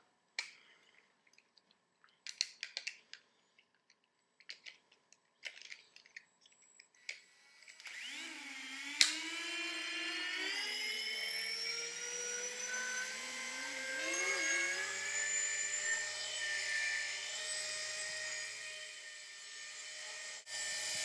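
A Walkera 4#3B brushless RC helicopter starts with scattered light clicks and taps, then its motor spools up into a steady, close, high-pitched whine that wavers and builds as it flies, with no talking.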